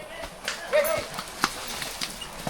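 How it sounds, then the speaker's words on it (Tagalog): Horses arriving near a river crossing, their hooves clip-clopping in a loose, uneven rhythm at close range, with scattered sharp hoof strikes and a brief whinny-like tone amid outdoor background noise. "Andito na pala yung mga kabayo."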